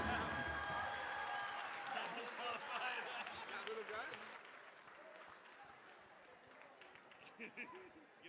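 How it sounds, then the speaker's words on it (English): A crowd at a tribal fair applauds a contest winner, clapping and cheering loudly at first while someone talks over it, then the clapping thins out and fades with chatter beneath. "Give him a round of applause."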